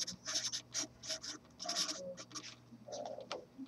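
A pen scratches across paper during a maths lesson, in short bursts of writing with brief pauses between strokes, fairly close and with no talk over it.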